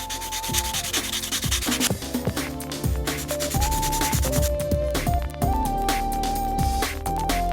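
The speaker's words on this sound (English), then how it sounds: "I'm going to do some buffing where appropriate, or some sanding." Plastic parts from a Space Marine Storm Speeder model kit are sanded with steady, repeated rubbing strokes close by, with background music playing throughout.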